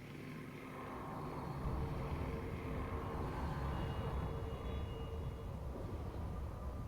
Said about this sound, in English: so we're at the Inferno train